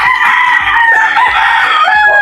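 Chickens and baby pullets clucking and calling together at close range, a dense continuous chorus of overlapping high-pitched chirps and clucks with no pauses.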